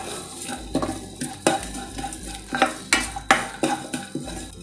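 Garlic and whole spices roasting in a tablespoon of oil in a pan, with a steady low sizzle beneath repeated scraping stirs and a few sharp clinks of the spoon against the pan.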